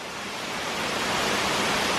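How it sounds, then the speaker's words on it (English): Waterfall along the Appalachian Trail near Jones Falls, a steady broadband rush of falling water that swells slightly louder, with no voices. "let's take a look at these waterfall"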